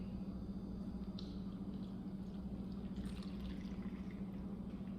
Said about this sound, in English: put my funnel in, pour in my Kool-Aid